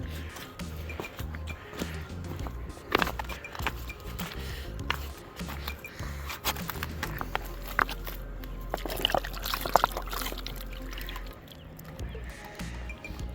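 River rocks, quartz and pink stones among them, are rinsed and swished in shallow river water, with soft sloshing and trickling splashes running steadily throughout at close range and no talk.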